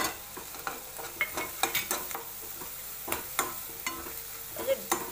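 Finely chopped lavangi green chilies frying and stirred in hot oil for Punjabi-style paneer bhurji, with repeated short scraping and sizzling bursts over a steady crackle.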